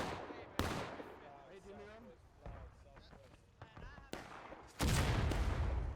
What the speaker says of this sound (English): Another good artillery shot